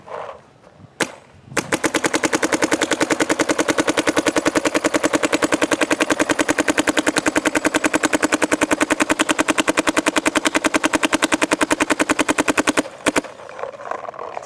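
A DLX Luxe X paintball marker fires a long, rapid, evenly spaced burst of shots outdoors in sandy conditions, loud and steady for about eleven seconds, with a single shot just before the string begins and quiet after it stops.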